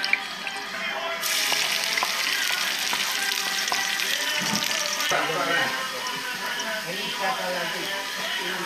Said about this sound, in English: This is to fry the oil